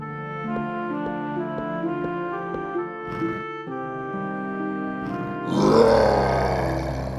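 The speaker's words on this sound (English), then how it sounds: "a roar was heard again and the beast came into the hall" A beast roars in a Beauty and the Beast bedtime story for kids, a deep growling roar rising loud near the end over steady sustained background music.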